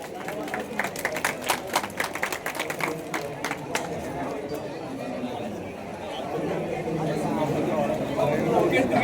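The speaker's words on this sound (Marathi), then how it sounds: "टाळ्या वाजवा सगळ्यांनी एकदा" A crowd at a village lezim and dhol competition prize-giving claps in a burst of applause that thins into chatter and general crowd noise, while an announcer talks over a loudspeaker.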